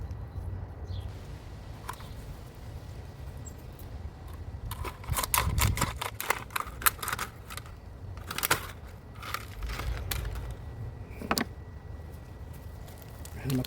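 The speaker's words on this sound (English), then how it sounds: "Let me grab my scissors so I can cut this off." Several sharp snips and clicks from scissors trimming a jalapeno pepper plant being prepared for overwintering, clustered in the middle of the clip, close by over a low background rumble.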